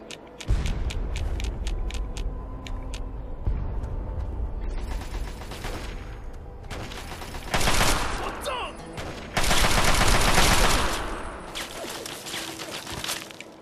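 Enemy gunfire in the Fallout 3 video game, with sharp repeated shots early on, then dense bursts of automatic fire and mechanical clatter, loud and close, broken by quieter gaps.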